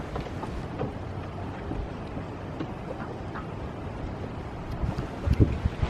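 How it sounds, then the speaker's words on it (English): Strong outdoor wind buffets the microphone in a backyard with a chicken flock, a continuous low rumbling roar that swells into heavier gusts near the end. "Again, I apologize for the wind."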